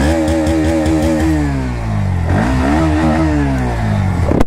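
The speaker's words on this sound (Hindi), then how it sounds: "तो पहले आपको NS160 का एक बार एग्जॉस्ट नोट सुना देते हैं।" A Bajaj Pulsar NS160 motorcycle exhaust note, loud and close, with a few sharp throttle blips rising and falling, then a longer rev that climbs and settles back toward idle.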